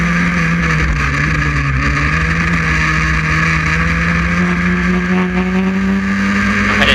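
Historic Formula Ford race cars run flat out at Croft during the Nostalgia Festival, a loud, continuous high-revving engine drone that holds steady throughout with no voices.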